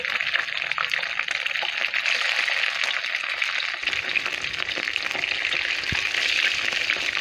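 Dense, steady sizzling and crackling of chicken frying in hot oil, close and continuous with scattered pops throughout.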